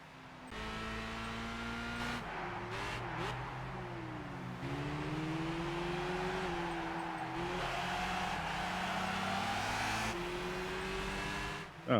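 Race cars in Gran Turismo 5 drone steadily, with engine tones rising and falling through gear changes and a few sharp clicks. A brief thump comes at the very end, and no voice is heard.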